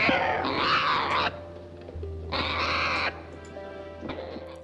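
A crow caws loudly in two long harsh bursts with a shorter third call near the end, set against a low steady rumble in a 1949 black-and-white film scene.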